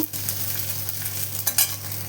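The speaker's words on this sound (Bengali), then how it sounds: "একটু দিয়ে দেব রসুন কুচি, একটু মশলাটা ভেজে নেব।" Chopped garlic and spices fry in oil with bay leaf and black cumin, giving a brief close sizzle under constant stirring, with a low steady hum of a stove or fan behind it.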